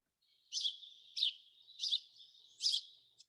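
A small songbird gives four repeated chip calls at a steady pace of roughly two-thirds of a second apart. Each chip is bright, high and doubled, like two quick notes. The calls are moderately close and clear against otherwise quiet spring surroundings.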